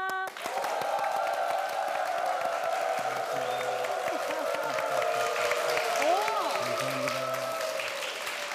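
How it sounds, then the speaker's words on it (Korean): A church congregation gives sustained applause with a standing ovation, a steady dense wash of clapping and crowd noise that runs evenly throughout without a break. "저 뒤쪽에서는 기립박수까지 나왔어요"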